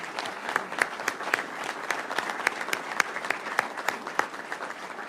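An audience at a Florida news conference with the governor and sheriff applauds for law enforcement officers, a crisp, continuous clapping of moderate loudness with sharp individual claps standing out.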